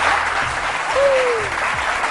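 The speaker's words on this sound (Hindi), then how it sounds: "हीरा के लिए जबरदस्त तालियां।" Studio audience applauding for guest Hira Mani on a talk show, a steady dense clatter of clapping filling the whole stretch with a brief whistle-like tone in the middle.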